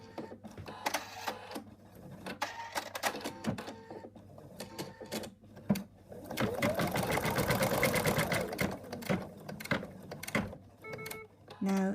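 An in-the-hoop embroidery sewing machine stitches the outline of an elephant's trunk, a steady fast mechanical whirr with rapid needle clatter that swells in the middle, with a voice talking over parts of it.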